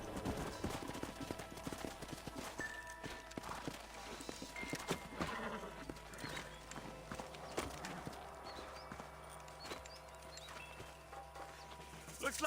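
Horses clip-clop with faint neighs in the video game Red Dead Redemption, quiet hoofbeats mixed with scattered gunfire cracks and ambient game sound.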